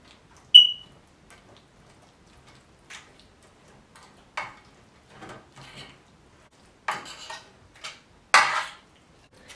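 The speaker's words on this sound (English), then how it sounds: "we're just gonna mash it up" A utensil mashes baked feta in an oven dish, giving sparse clinks, taps and short scrapes against the dish, separated by quiet pauses, close and clear.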